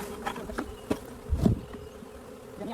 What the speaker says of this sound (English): you can see a few bees flying around still